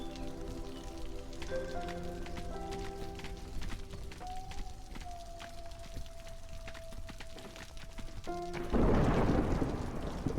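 A thunderstorm from the video game Against the Storm rumbles under layered sustained music tones, with rain hiss building and a heavy downpour surging in near the end; no talking.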